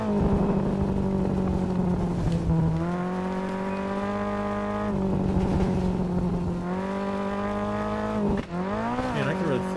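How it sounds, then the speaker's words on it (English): A rally car engine in the WRC 10 video game revs hard and holds steady notes, shifting gears with rising and falling pitch and crackling exhaust pops, loud and close throughout. "I like the sound of this car. It's got pops."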